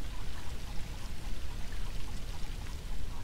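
A steady, dense rushing hiss of a waterfall in the video game Dragon Ball Z Kakarot, continuous and unbroken like pouring water throughout, with no talk over it.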